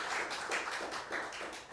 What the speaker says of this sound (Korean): 우리 목사님께 감사의 박수 드리겠습니다.